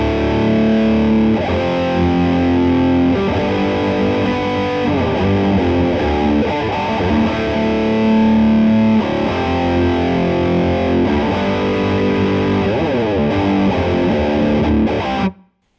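Distorted electric guitar strums sustained chords with added higher melody notes ringing over them, loud and continuous until it cuts off.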